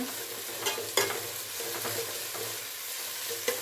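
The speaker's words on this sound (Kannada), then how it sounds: "ಈಗ ಈರುಳ್ಳಿ ಚೆನ್ನಾಗಿ ಫ್ರೈ ಆಗಿದೆ" Onions fry in a pan with a soft, continuous sizzle and occasional light clicks of stirring, heard close and fairly quiet with no talking.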